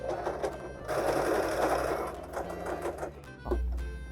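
A Singer Start 1306 domestic sewing machine stitches polyester knit fabric in steady, rapid mechanical bursts. The needle rhythm is close and moderately loud, with a brief pause and a thump near the end.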